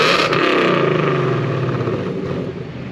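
A car engine running E85 revs and then settles into a steady, raspy exhaust drone in quiet mode, fairly loud and close, easing off slightly toward the end.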